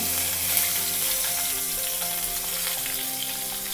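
Cumin, mustard seeds, dry red chili, asafoetida, turmeric and curry leaves sizzle in hot oil for a tempering, a steady close crackling hiss with no talking.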